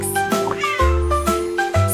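A cat meows several times in quick succession, close and clear, with short bright calls repeating about every half second.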